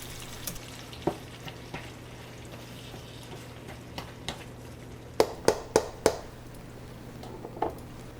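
Eggs cook in a non-stick pan with a steady low sizzle, broken by utensil taps and scrapes, including a quick cluster of four sharp knocks partway through; no talking.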